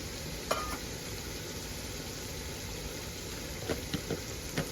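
Raw jackfruit curry stir-frying in a pan with coriander and garam masala, a steady close sizzle with occasional scrapes and clinks of a spatula stirring, no talking.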